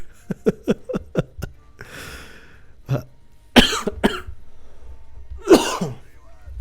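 A flurry of quick, close coughs from a person with a sore throat, then a raspy breath and several heavier, hacking coughs spaced a second or so apart.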